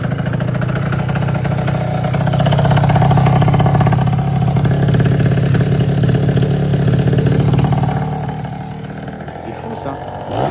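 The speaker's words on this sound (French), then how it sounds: "Vas-y mets un coup de panard sur le kick." A 70cc stunt-kit moped engine kick-started and running, a loud close buzzing idle with uneven pulsing that rises briefly and then settles lower, while voices talk over it.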